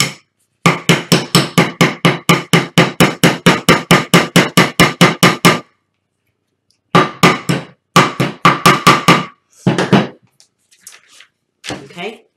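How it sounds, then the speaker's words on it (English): A long run of rapid, evenly spaced taps of a small hammer on a nail rings out loud and close, then pauses before a few shorter bursts of tapping. "tap that nail into place"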